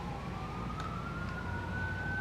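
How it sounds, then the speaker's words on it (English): An ambulance siren passes outside, a steady wailing tone sliding slowly in pitch, heard faintly and at a distance over low background rumble. "don't mind the ambulance"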